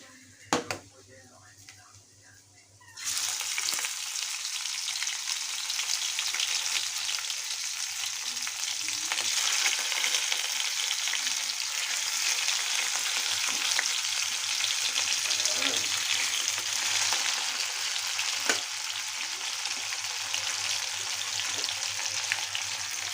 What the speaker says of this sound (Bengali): পটল ভাজা বানাচ্ছি এখানে।